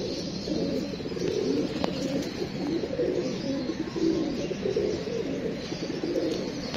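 Female pigeon cooing in soft repeated throaty phrases, close and steady, with faint chirps and background rustle throughout.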